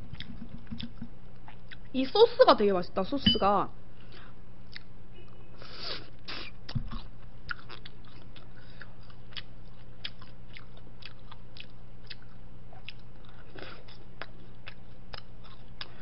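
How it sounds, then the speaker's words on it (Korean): Crunchy battered fried food bitten and chewed close to the mic in a tteokbokki comparison eating show: a burst of crisp crunching bites, then quieter occasional chews under a speaking voice. "튀김옷이 되게 바삭바삭해요"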